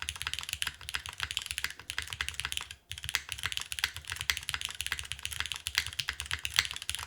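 Rapid typing on a Neo65 Core Plus mechanical keyboard with an O-ring mount, a dense, close stream of soft clacky keystrokes with one short pause, no talking.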